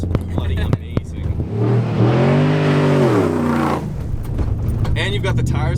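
Modified 6.2L Ford Raptor V8 revving hard, rising to a loud, rich harmonic roar for about two seconds and falling back to a rumbling idle, with people talking before and after the rev.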